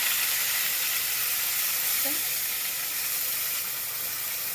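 Paste of ground onion, garlic, ginger and green chili sizzling loudly in hot oil in a home kitchen, a steady close hiss with a faint clink partway through.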